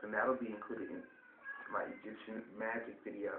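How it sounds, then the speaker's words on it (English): A pet cat meows in short, nasal cries indoors, close by, alternating with and overlapping a person talking. "That's my cat."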